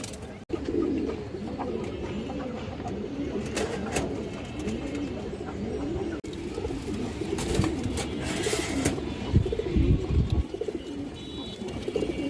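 Pigeons coo repeatedly in soft, overlapping rolling calls, close by, with a steady murmur of birds and occasional bumps and rustles in the background.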